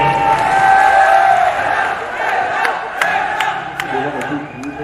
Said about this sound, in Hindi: लेडीज एंड जेंटलमैन, तालियों से इस्तकबाल करें।